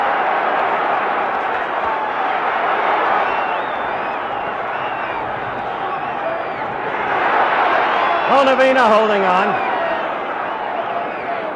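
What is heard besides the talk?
boxing crowd roaring at Ali vs Bonavena fight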